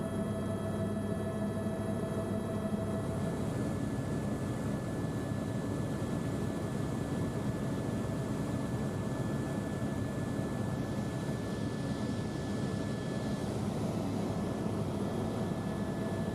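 A helicopter climbs over 3,000 feet on a scenic return flight from a glacier, its rotor and turbine making a steady, dense whirring drone heard from inside the cabin without pause.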